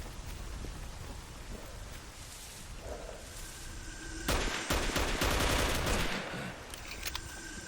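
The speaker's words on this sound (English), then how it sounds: "I didn't realise you could fire it automatic" Automatic gunfire from a weapon in STALKER Anomaly, a burst of rapid shots rising over a rain-like ambient hiss midway through, then fading back to background noise.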